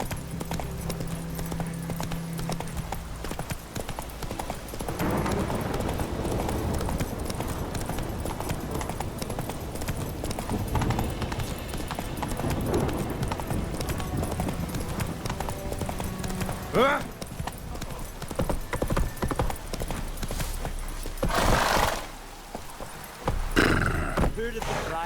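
Steady clip-clop of horse hooves at a running pace in The Witcher 3, with a brief whinny, under continuous talking and game background sounds.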